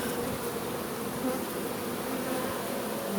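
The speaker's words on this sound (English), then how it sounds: "when you see the bees now, see them running, as you spread your hand out, the bees sort of spread and move more" Dense, steady buzzing of a mass of honeybees, including drones, crawling over a spread-out hand at a hive, a close continuous hum with no voices over it.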